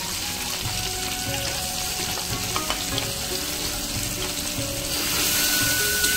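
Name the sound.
tomato and spice paste frying in a pan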